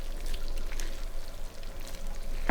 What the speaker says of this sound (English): pour the egg mixture into the pan with the pasta